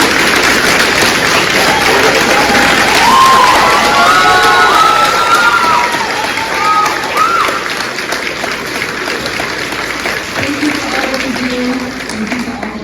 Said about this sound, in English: they deserve a hearty round of applause